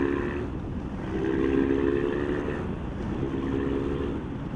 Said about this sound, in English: The engine is topped off by the fantastic exhaust sound.